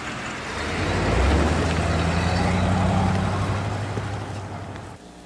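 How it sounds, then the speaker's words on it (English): A truck engine rumbles low and steady, swelling in loudness and then cutting off near the end, with no voices heard. "I said pull the truck over."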